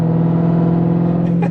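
A Dodge Charger Redeye with a DiabloSport tune and 850 horsepower idles loud and steady, a deep constant drone close by, with a slight lift in engine note near the end.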